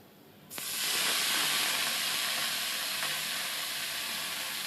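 Chopped leafy greens hit hot oil with fried onion and crushed garlic, setting off a sudden loud sizzle that keeps hissing steadily and close for several seconds with no talk.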